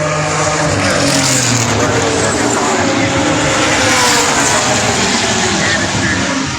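A race car brakes hard into turn 5 at Pukekohe Park Raceway. A loud, continuous engine roar comes through with a brief tyre lock-up under commentary.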